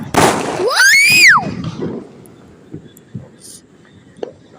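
A sharp firecracker burst and a rising, falling whistle come first, then scattered small pops crackle faintly in the distance.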